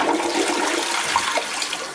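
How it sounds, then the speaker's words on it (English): Vacuum toilet flushing in a bathroom, a loud, continuous hissing rush of suction that lasts the whole two seconds. "So I can press it, it is gonna flush."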